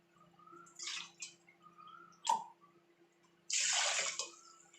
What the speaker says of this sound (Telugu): ఇందులో ఇప్పుడు వాటర్ పోసుకోవాలి